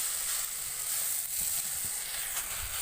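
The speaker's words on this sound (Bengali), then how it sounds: "নারকেল ভাজা হয়ে গেছে, লাল লাল করে ভেজেছি" Grated coconut frying in a pan until reddish-brown, giving a steady, close, even sizzle and hiss with faint stirring scrapes and no voices.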